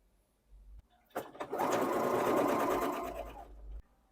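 Sewing machine running steadily for about two and a half seconds as it stitches broderie anglaise lace onto the right side of fabric, preceded by a couple of short clicks and handling noises, close and fairly loud with no talk.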